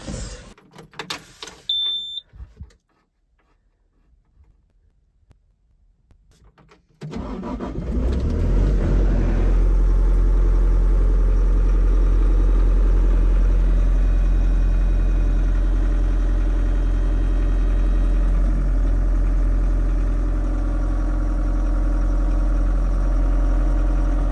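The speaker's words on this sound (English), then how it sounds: "I'm running the snowblower" After a short quiet stretch, a snowblower engine starts up nearby and keeps running with a steady, loud rumbling hum.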